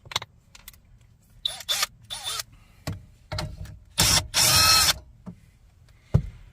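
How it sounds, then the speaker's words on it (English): Power drill backing out 10mm screws from the dash of a 2008 Scion xB, close and in short bursts with a longer whir near the end, broken up by clicks and handling noises, with no talk. "we're going to remove those 10mm screws"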